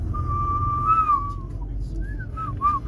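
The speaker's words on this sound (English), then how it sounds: "I love whistling." One person whistles a wavering tune, holding a long note and then adding short rising and falling chirps. It is clear and close over a low rumble of background noise, with no speech.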